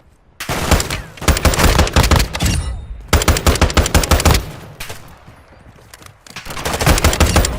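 Rapid automatic gunfire in Call of Duty 2, loud bursts of close machine-gun shots in three long volleys separated by brief pauses.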